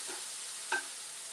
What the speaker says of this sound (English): you can hear that it's really hot. Sizzle, sizzle.